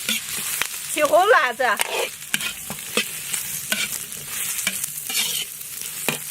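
Dried chilies and Sichuan pepper crackle and sizzle as they are stir-fried in a hot pan of oil with scallion, ginger and garlic, a spatula scraping in quick strokes, with a brief spoken phrase.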